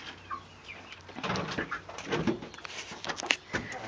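Backyard chickens cluck and chatter during morning farm chores, several birds calling in short, uneven bursts at close range with scattered scratching and shuffling noises in between.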